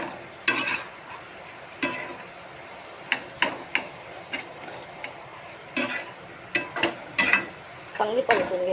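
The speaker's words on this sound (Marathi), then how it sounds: "बघा भाजी चांगली परतून घ्यायची." Potato sandwich filling being sautéed in a pan, quiet frying with repeated sharp scraping and tapping of a spoon stirring against the pan in irregular bursts.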